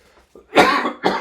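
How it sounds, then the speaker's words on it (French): A woman coughs twice during a paper card-making session, a faint throat sound leading into one loud, harsh, close cough and then a second shorter burst, with no talking. "j'ai ma toux qui revient"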